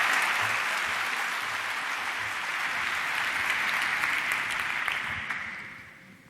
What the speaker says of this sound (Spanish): Laura Morrón, un aplauso muy fuerte.